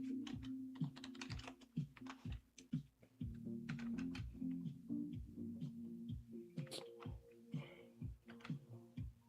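Rapid typing on a wireless computer keyboard, a dense run of close, crisp key clicks and thumps with brief pauses, continuous throughout.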